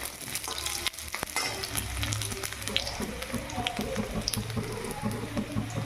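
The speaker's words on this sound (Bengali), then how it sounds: "আলুটা আমি কষে নিয়েছি লাল লাল করে।" Potato pieces fry in a pan for a Bengali dish, browning to a reddish colour, with a steady close crackling sizzle broken by light stirring scrapes and clinks.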